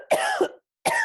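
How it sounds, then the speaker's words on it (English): Two sharp coughs from one person, close and clear, the first a double burst and the second following after a short pause, with no talk over them. "going to cough"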